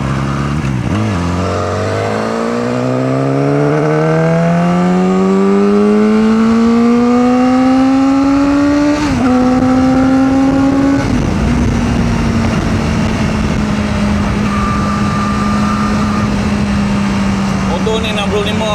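A KOVE 450R motorcycle engine revs up steadily, its pitch rising through the gears before settling into a loud, sustained drone. Close, with no speech.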